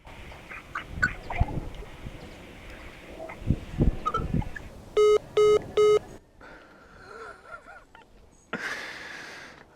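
A telephone gives three short, evenly spaced electronic ringing bursts midway through, standing out over a noisy mixed background with other scattered sounds.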